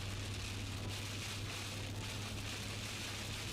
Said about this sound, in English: That rain sound is honestly eardrum breaking.